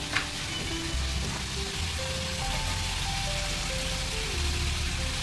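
Fried potatoes sautéing with spices in a pan, giving a steady close sizzle and crackle that runs unbroken throughout, with soft stirring touches and no voices.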